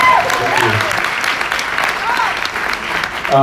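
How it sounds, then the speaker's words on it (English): An audience applauds a singer after a song, a steady wash of clapping that holds throughout, with brief voices and a few tonal sounds heard over it. "please applaud her"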